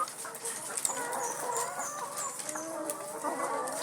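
Many laying hens cluck and chatter together in a poultry house, a busy overlapping chorus of short calls at steady moderate loudness with no talking over it.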